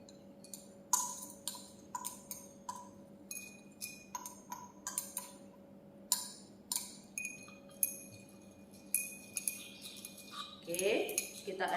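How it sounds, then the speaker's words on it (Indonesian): A glass stirring rod clinks repeatedly against glassware as NaOH is dissolved in distilled water during a saponification lab, with sharp, fairly regular taps close by and a faint steady hum underneath. "sekarang masukkan NaOH secara perlahan ke dalam aquades kita dengan menggunakan batang pengadu."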